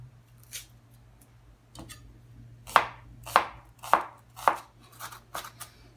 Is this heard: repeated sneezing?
no